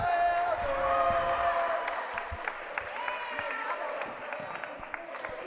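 Crowd at a high school girls' basketball game between Renaissance and St. Mary's, a busy murmur with scattered clapping, whoops and thuds under ongoing talk.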